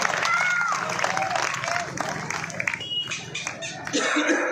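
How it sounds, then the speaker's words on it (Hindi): Crowd clapping at a political rally in Uttar Pradesh, a broad wash of applause with some chuckles and cheering, steady throughout with voices mixed in. "बोलो ताली तो बजाओ, कम से कम बात अच्छी लगी"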